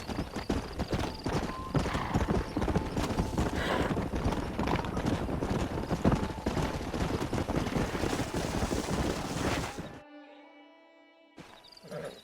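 Steady clip-clop of horse hooves with a horse neighing in the video game Red Dead Redemption, dense and continuous for about ten seconds before dropping to quiet tones.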